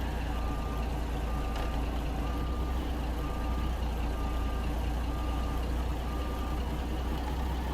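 In American Truck Simulator, a truck with a 3406B engine on a fuel haul backs up. Its reversing alarm repeats evenly spaced beeps over a loud, constant engine rumble.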